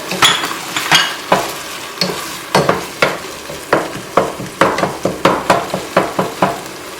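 Spices, including black pepper, cumin and chili powder, fry in a pan for a dip while a spatula keeps breaking up the lumps. A close, steady run of scraping, tapping strokes sounds over a soft sizzle, with no talking.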